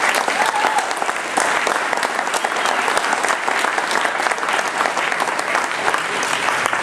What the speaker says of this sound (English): I'd like you to give these candidates a round of applause